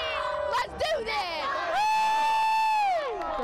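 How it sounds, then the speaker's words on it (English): SDSU Aztecs fans in San Diego celebrate an NCAA March Madness victory with loud shouting and a long, sustained whoop close by, rising over crowd noise. "Aztec fans are celebrating tonight"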